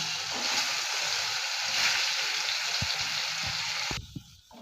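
Spiced food, pre-salted and rubbed with masala, sizzling as it fries in oil in a pan, a steady crackling hiss for about four seconds, with a few faint utensil knocks near the end and no talking.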